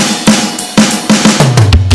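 A drum kit beat from a song played at normal tempo, with regular punchy kick and snare hits, cymbal wash and a short tom fill near the end, loud and close with no talking.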